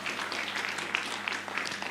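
Brief applause from the audience at the launch of a Center for Teaching and Learning Excellence, a steady wash of many hands clapping at moderate loudness across the short stretch, with no speech over it.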